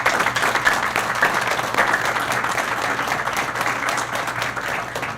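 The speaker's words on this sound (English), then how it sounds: "they deserve a round of applause" A city council audience in South Lake Tahoe applauds in a steady, dense round of clapping that holds at an even level from start to finish, with no speech over it.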